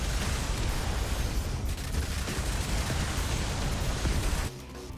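SMG fire in Yet Another Zombie Survivors, a dense continuous rattle of rapid shots mixed with game effects, loud and unbroken for most of the stretch before easing off near the end, no talking.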